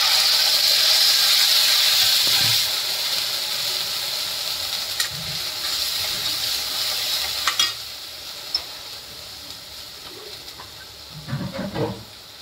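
Bhagar (barnyard millet) frying and being stirred in a hot pan with chillies, a loud steady sizzle and hiss up close that slowly eases, broken by occasional scraping stirs.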